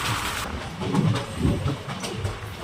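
Sengottai Erode Express train running, heard from on board as a close, loud rumble with rhythmic clattering thumps from the wheels over the track.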